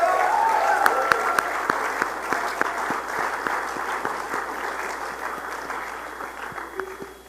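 A crowd applauds steadily throughout, with a dense patter of clapping that gradually softens toward the end.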